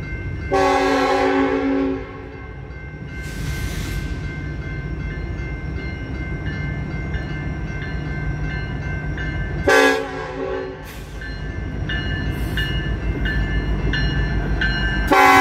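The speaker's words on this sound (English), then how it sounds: "BNSF coal train. And they go right over this crossing." A BNSF coal train rolls over a grade crossing at Santa Fe Junction in Kansas City, Missouri, its loud air horn sounding in several long blasts and short toots above the steady rumble and clatter of the passing railcars.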